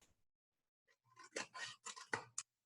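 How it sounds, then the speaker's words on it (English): Scissors cut a strip from a paper plate for a butterfly craft: a quick run of four or five crisp, crunchy snips close to the mic, after a near-silent start. "So now I've cut 2 strips that are left from my paper plate"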